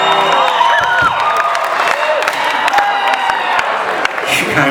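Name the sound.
Australian concert crowd cheering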